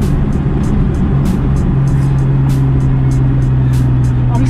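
A 520 whp RB25-engined Datsun 260Z is driven hard, its engine droning loud and steady from inside the cabin with a constant low rumble, a faint whine above it, and light ticking noises scattered throughout.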